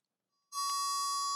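A pure, steady electronic tone from a pitch reference device sounds after a brief silence, holding one clear pitch at a sustained, even volume, used for tuning a harpsichord.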